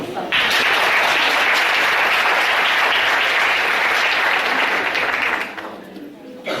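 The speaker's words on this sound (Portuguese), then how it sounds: "Aplauda o Senhor." A church congregation bursts into loud, dense applause that holds steady for about five seconds, then thins and fades out near the end, a crowd of many hands filling the room.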